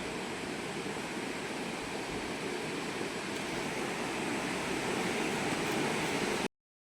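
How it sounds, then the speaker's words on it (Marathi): Rain falling outside during a crab-catching outing: a steady, dense hiss of rainfall, uniform and fairly loud throughout with no distinct drops or voices, cutting off abruptly near the end. "आता पाऊस पडतोय बघा बाहेर"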